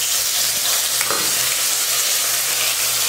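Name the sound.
mustard seeds and urad dal tempering in hot oil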